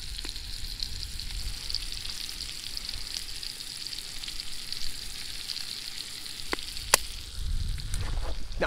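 Steak frying in a pan swimming in butter, seasoned with McCormick Smoky Montreal steak seasoning, at an ice-fishing camp; a steady close sizzle runs throughout with a few sharp pops and a louder burst near the end.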